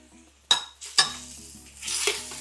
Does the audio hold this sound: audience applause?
no